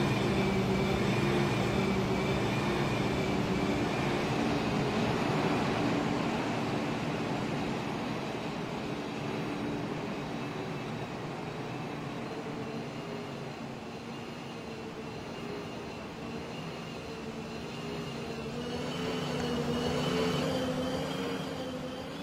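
MTR East Rail MLR trains pass Kowloon Tong station platform 2 in a Roblox game, a continuous loud rumble with steady tonal motor whine that swells and eases over twenty seconds, with no talk.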